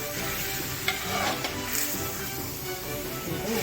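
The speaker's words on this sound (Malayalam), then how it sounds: "നല്ലതുപോലെ ഇളക്കി യോജിപ്പിക്കണം ഈ കറി ചട്ടിയിൽ തന്നെ നമ്മൾ ഉണ്ടാക്കണം" Village-style chicken curry being stirred in a clay pot, a continuous close sizzle with scraping stir strokes running the whole time, no voices over it.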